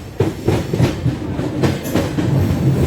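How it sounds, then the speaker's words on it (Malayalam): Passenger train 16334 running on rail tracks in Maharashtra after leaving Roha, with a steady rolling rumble and repeated clickety-clack wheel beats, heard close from on board with no talk. "അപ്പോൾ 8:04 നമ്മുടെ ട്രെയിൻ റോഹയിൽ നിന്ന് പുറപ്പെട്ടു."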